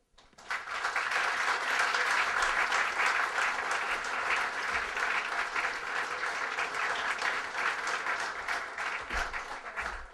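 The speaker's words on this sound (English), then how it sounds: "A round of applause for the chamber chair." A room full of people at a business town meeting applauding, a dense, sustained roar of clapping that starts abruptly and continues steadily.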